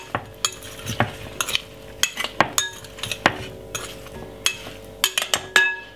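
Potato salad mixed together in a bowl, with irregular close clinks and scrapes of a utensil against the dish over soft squelchy stirring.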